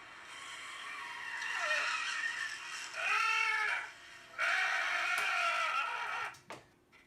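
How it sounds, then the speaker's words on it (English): Added car sound effects with a revving motor and long, wailing tire screeches that rise and fall in sustained bursts, loud and close, with no talking. "I added all new car sounds, inside and outside sounds, and I added tire screeches."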